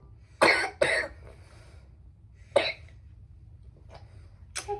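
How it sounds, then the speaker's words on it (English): A teething baby boy with a slight cold coughs: two quick close coughs at the start, another a couple of seconds later, then fainter breathy sounds and a short final cough, over quiet room hum. "he has a little bit of cough and the sniffles"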